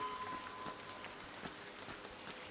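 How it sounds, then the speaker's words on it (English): Steady rain pattering across surfaces in the video game Arc Raiders, a dense broadband hiss with scattered drop impacts, continuous and fairly quiet, with no talking. "It's so hard to tell with all the noise. The rain."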